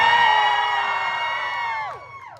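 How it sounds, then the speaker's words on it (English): A holiday story-time audience cheers loudly with sustained whoops and shouts. The voices hold steady, then slide downward and fade out at the end. "Right, cheer louder like it's for the tech"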